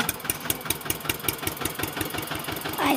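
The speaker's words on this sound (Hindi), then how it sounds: "ये देखो भाई खलियाने जा रहा है ट्रैक्टर" An Eicher 241 tractor engine runs in a farm field, a steady rapid diesel chugging heard close and alone at moderate level.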